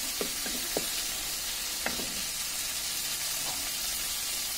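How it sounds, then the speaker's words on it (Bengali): A tempering fries with a bright, steady sizzle in the wok used to boil the dal. A few sharp clicks and scrapes of a utensil sound against the metal pan. "যে কড়াইতে ডালটা আমরা সেদ্ধ করেছি সেই কড়াইতে আমরা বাগার দিয়ে নিচ্ছি।"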